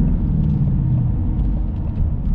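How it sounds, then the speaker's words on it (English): A 2020 Ford Mustang GT California Special convertible's V8 rumbles steadily through quick, smooth shifts of its 10-speed automatic, a continuous deep low drone with no voices. "Really fast shifts, like that second and third, super smooth, and the sound of the V8."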